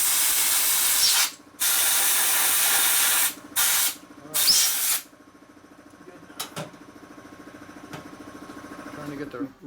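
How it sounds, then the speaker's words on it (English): Compressed air blasts into a motorcycle engine case from a 1989 FXR S&S stroker Evo rebuild, a loud, steady hiss cut into several long bursts and then short puffs, with a voice speaking between them. "Just blow behind the case, up high. Blow the inside out."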